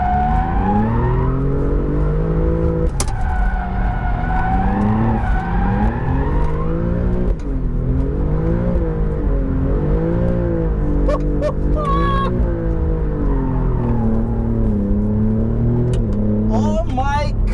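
Alfa Romeo Giulia GTAm on semi-slick tires drifting with the rear sliding and smoking: a loud, close engine holds a wavering revving drone throughout while the tires squeal, and a voice talks over it.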